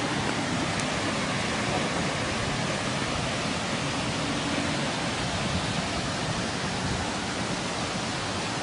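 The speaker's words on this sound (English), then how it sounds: "There's a waterfall over there." Waterfall in Finlay Park, a city park in Columbia, South Carolina: a steady, loud, unbroken roar of falling water that holds evenly throughout, with no talk.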